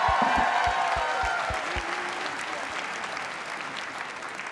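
A large crowd at a Toronto Raptors championship celebration claps loudly and steadily, a dense wash of applause that fades only slightly over several seconds, with a few low thumps early on.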